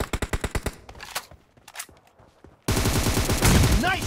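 Rapid automatic gunfire in PUBG team deathmatch, a burst of evenly spaced loud shots, then a quiet gap with scattered distant shots, followed by a sustained dense stretch of firing and game noise.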